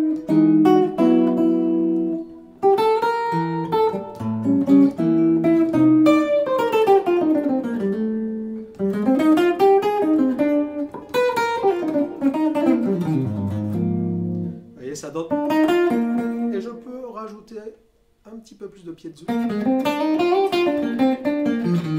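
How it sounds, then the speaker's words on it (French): Forshage ergonomic electric guitar on its bass pickup blended with a little piezo, playing melodic phrases of sustained single notes and slides with short gaps between them, clear and close, with no one talking. "je pars sur le micro grave et je vais lui rajouter un petit peu de piezo"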